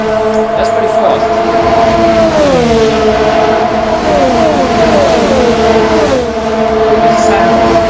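Race cars passing a spectator spot in the Assetto Corsa racing game, several loud engine notes sweeping downward in pitch one after another as the cars rush by, with the roar continuing throughout.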